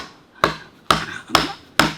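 A hammer strikes during a sculptor's work: four loud, close, evenly spaced blows, each with a sharp crack and a short ringing decay.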